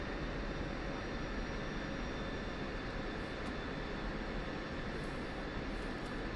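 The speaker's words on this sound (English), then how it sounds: "I guess you're just taxiing really fast." Airplane taxiing in a flight simulator game, a steady broadband engine hum and rushing noise that stays constant and fairly faint for the whole stretch, with no voices.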